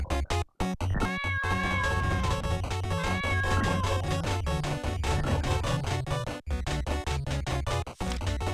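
A cat meows repeatedly in the video game CHANGED, its wavering cries rising over a steady, loud electronic soundtrack that runs throughout.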